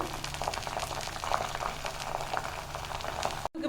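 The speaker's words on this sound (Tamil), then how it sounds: "கொஞ்சமாக கருகப்பில் போட்டு நல்லா பொரியட்டும்" Mustard seeds, slit green chillies and curry leaves frying in oil give a dense, constant crackle and spitting that stay at an even level, close up and with no voices.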